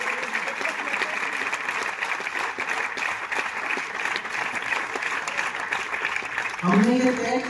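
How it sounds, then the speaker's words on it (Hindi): Audience applause fills a hall at a Hindi kavi sammelan poetry event at IIT Roorkee, dense and steady for the whole stretch, with a voice rising over the clapping near the end. "एक बार जोरदार तालियां बजाएं"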